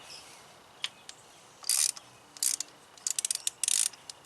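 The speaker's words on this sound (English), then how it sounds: "We'll just use a 5/8 spark plug socket" A ratchet with a 5/8 spark plug socket removes spark plugs from a Chevy Cruze, giving quick bursts of sharp close clicking amid near-silence, with the pace quickening toward the end.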